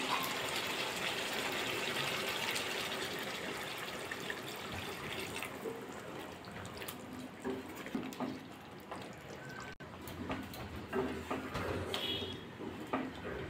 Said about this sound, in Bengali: এবার জল দিয়ে দেবো গরম জল